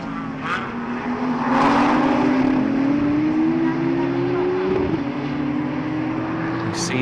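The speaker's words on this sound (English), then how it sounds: "You see there the 722 car now being driven by Roberto Faria" Racing car engine at a race circuit, the 722 car driven by Roberto Faria, a loud sustained drone with a steady rising pitch, held at high revs and then dropping briefly, with a commentator talking over it.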